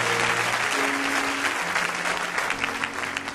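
A church congregation applauding during a French-language sermon, steady dense clapping filling the room throughout, with a few voices faintly calling out beneath it.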